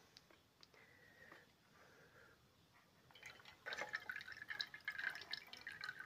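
Water trickling and dripping out of a Senseo coffee machine under overhaul, starting faint and becoming a steady, louder close-up flow in the second half.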